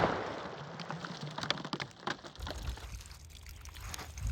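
Water keeps trickling and splashing steadily from water jugs shot through by a black-powder carbine, a soft, close patter of drips and streams with scattered small splashes.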